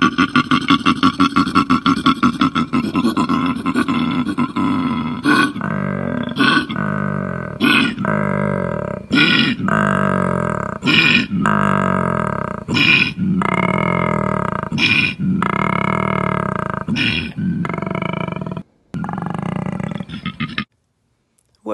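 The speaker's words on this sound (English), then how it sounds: "Have you ever heard what a koala sounds like?" Koala bellowing in a long run of deep, rasping snore-like grunts, each rough inhaled rattle followed by a belching exhale, loud and close, repeating rhythmically before falling silent.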